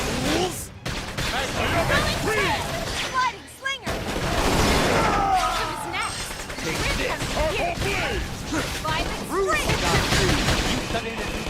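Rapid bursts of game gunfire and explosions mixed with clashing effects, with voices shouting over the dense, continuous action.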